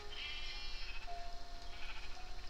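Sheep in the video game Minecraft bleat in a soft, wavering cry over a steady background hum, faint and unaccompanied by talking.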